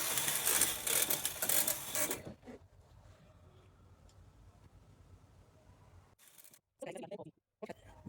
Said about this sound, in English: the knitting of the short sleeve sweater as well is going on